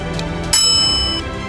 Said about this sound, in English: add a sound effect called bell ding